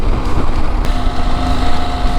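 A KTM 890 Adventure motorcycle exhaust sounds steadily while riding on the road, a constant engine drone mixed with heavy wind rush across the microphone and no talking.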